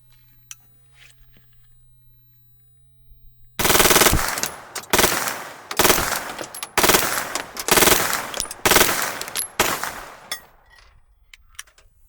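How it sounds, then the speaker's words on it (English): An AK rifle with a folding brace bump fired outdoors: after a faint quiet start, rapid loud bursts of automatic-style gunfire come in about seven quick strings with short gaps between them, and no one talking. "this is a very fun gun to bump fire, so let's see if we can do that today."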